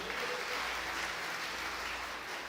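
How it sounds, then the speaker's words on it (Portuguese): A church congregation applauding together, a steady dense wash of clapping that holds evenly from start to finish without pause. "Você pode aplaudir o Senhor?"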